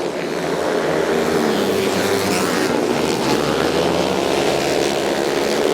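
Racing motorcycles at Indianapolis Motor Speedway during a legends night event, a continuous loud engine roar and wind rush that stays dense and steady throughout, with no pauses.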